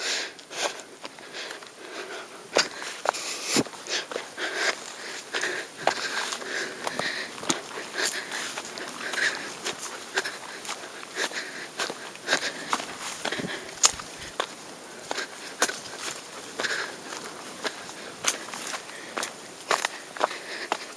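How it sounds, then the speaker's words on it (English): A dog pants close behind someone hiking a slippery shale trail, with quick rhythmic breathing mixed with crunching footsteps throughout. "Sausage is really panting behind me, but he's been running like crazy."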